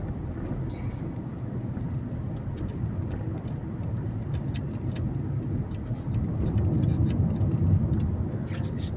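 Congested road traffic on EDSA near North Avenue and Cubao rumbles as a steady low drone of idling and creeping car engines, swelling a little louder near the end.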